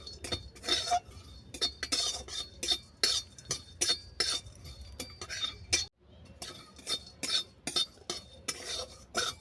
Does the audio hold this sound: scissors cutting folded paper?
no